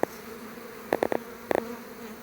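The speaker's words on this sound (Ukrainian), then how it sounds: "Ще трошки побудемо, бо навіть ще трутень є." Bees buzzing around flowering plants in late summer, a drone among them, with several brief close buzzing passes standing out against a quiet outdoor background.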